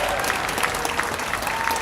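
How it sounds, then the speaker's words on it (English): Audience applause at the grand opening of the Crosslake Connection, a dense, steady wash of many hands clapping that holds evenly for the whole stretch, with a few voices faintly mixed in. "Give them a round of applause for this day."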